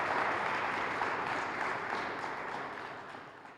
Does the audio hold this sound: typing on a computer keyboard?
no